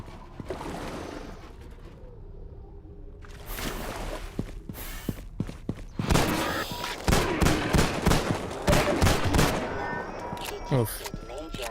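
Bursts of pistol fire from the video game Deadlock, a rapid cluster of sharp shots crowding together in the second half, with quieter game ambience and a few scattered pops before.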